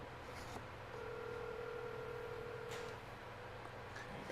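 Telephone dialing tones ring out as a call is placed, with a steady tone holding briefly over a faint background hum before quieter beeps follow; no one speaks.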